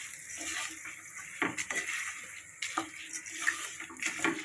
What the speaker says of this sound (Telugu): సో 2 గ్లాసులకి నేను 3 గ్లాసుల నీళ్ళు యాడ్ చేస్తానండి